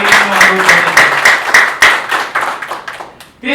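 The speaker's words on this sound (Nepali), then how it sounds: "यहाँले जोरदार तालीले सम्मान व्यक्त गर्नको लागि अनुरोध गर्दछु" An audience at a hotel training program event bursts into strong, rhythmic clapping, loud and close, with the applause gradually thinning and fading toward the end.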